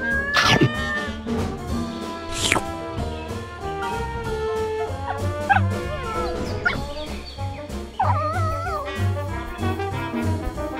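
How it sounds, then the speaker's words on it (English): A cat meows and caterwauls repeatedly in a toy farm diorama scene, with loud, drawn-out, wavering cries close up and backed by a busy layer of other animal and background sounds. "There's the cat, and it comes across the lizard."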